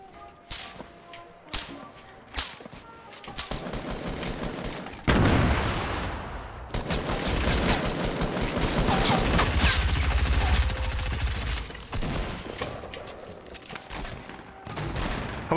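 Gunfire in a first-person shooter match, scattered sharp shots early giving way to a long dense stretch of rapid automatic fire and crashing impacts, loud and close, no speech.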